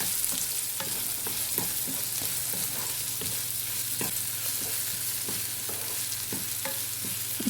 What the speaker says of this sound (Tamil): இப்போ இதை சேர்த்துட்டு வெங்காயத்தை ஒரு 3லேருந்து 4 நிமிஷம் நல்லா வதக்கி விட்டுக்குவோம்